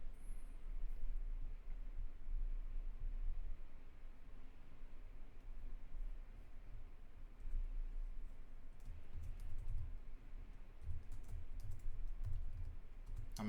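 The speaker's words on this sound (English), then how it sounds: "I'm actually typing something as well." Keys clatter on a computer keyboard in quiet, fairly faint bursts of typing, with a busier stretch of keystrokes toward the end and no talk.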